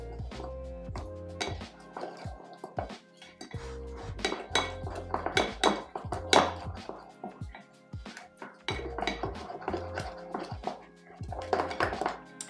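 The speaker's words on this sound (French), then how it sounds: "Et je vais rajouter mon beurre. Et là, je vais mélanger." Butter being stirred into financier batter in a bowl, with a spoon or spatula clinking and scraping against the bowl in repeated bursts at close range, rising and falling throughout.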